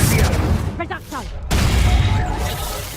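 Reducto spell blasts cast in the video game Hogwarts Legacy, heavy booming impacts with a sharp burst near the middle, loud and dense, with a voice speaking briefly under the effects.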